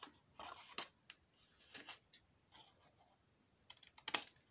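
Scissors cutting diagonally through paper for a scrapbook album page, a close series of short crisp snips and rustles with pauses between, ending in a sharper cluster of cuts.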